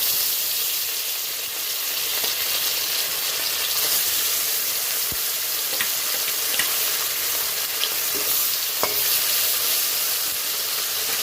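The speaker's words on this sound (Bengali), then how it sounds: "আমি দিয়ে দিচ্ছি কড়াতে মাছ ভাজার জন্য" Fish frying in hot refined oil in a kadai makes a loud, constant sizzle and hiss, with a few sharp crackles and pops spread across it and no voices.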